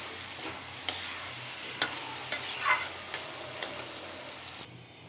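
Chickpeas fry in spices in a pan with a steady soft sizzle, while a spoon scrapes and stirs at regular intervals, each stroke a sharp clack over the hiss.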